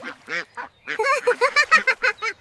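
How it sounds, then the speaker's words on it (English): White ducks on a farm give a run of harsh, nasal quacks, a short burst first and then a quick rhythmic series of loud, close calls. "Look, Miss Grace, these are white ducks."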